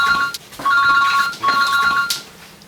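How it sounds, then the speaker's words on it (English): An electronic telephone ringtone sounds alone in three loud, repeating bursts of bright warbling tones with short gaps between them. "There's someone on the phone for you, Michelle"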